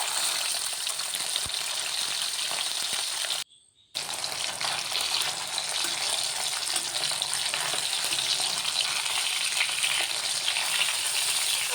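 Karimeen fish frying in a thick iron pan, a steady bright sizzle running the whole time with a brief drop to near silence early on.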